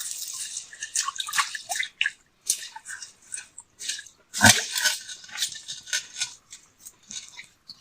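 Water seeps and drips into a newly dug pond cut into a stream bed, making irregular wet drips and soft squelching splashes close by, with one louder splash midway and no talk.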